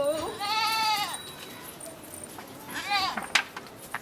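A goat gives two drawn-out, wavering bleats close by, one early and one near the end, with quieter rustling and faint background sounds between them.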